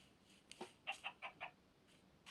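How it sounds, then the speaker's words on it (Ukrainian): Chicken in the Minecraft video game clucking, a quick run of about five short, sharp clucks in a row, fairly quiet against a low background. "О, курка, привіт."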